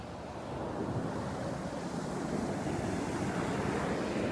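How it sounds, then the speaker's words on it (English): Calm Atlantic Ocean waves wash onto a beach on the Outer Banks near Hatteras, a constant soft roar mixed with light wind buffeting the microphone, no voices. "the beautiful Atlantic Ocean"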